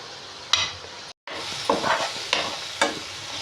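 Boiled potatoes and a masala of ginger, coconut, shallots and onion frying in oil, a close sizzle broken by several spatula scrapes and a brief cut to silence.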